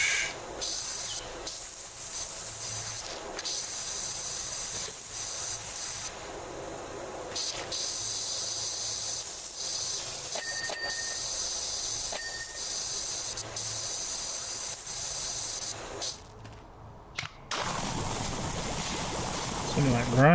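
A pressure washer in the video game Power Wash Simulator 2 blasts grime with a continuous high hiss, broken by brief pauses and a short silent gap near the end, over a faint low background hum.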